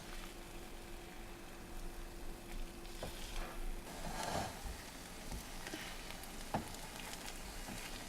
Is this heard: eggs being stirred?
yes